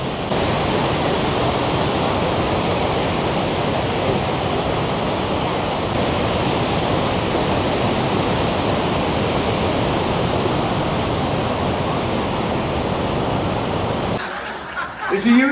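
A waterfall rushes loudly and steadily as a constant broadband roar, cutting off near the end.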